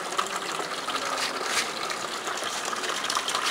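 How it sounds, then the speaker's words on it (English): Clear water gushes steadily from the outlet of a chlorination tank at a pilot water treatment plant, a loud, continuous rushing splash with no pauses. "now the clear water is coming from the filtration unit to the chlorination tank where the chlorine will be added"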